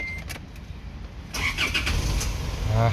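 An Isuzu D-Max pickup engine cranks and catches after a quiet stretch, then settles into a steady close idle, with no voices.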